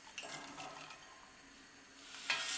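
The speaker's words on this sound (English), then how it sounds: "And I'm adding to that 2 chopped up red onions." Two chopped red onions hit a pan of hot olive oil and begin to fry and soften. A soft sizzle comes with a few faint stirring scrapes, and a sharper hiss rises near the end.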